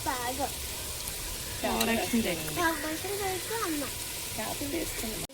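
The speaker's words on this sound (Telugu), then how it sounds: "ఇలా చేప ముక్కలన్నీ అలా వేసి ఇలా వేసుకోవాలి" Pieces of fish fry in a pan with a steady, close crackling sizzle that runs throughout, under a person talking.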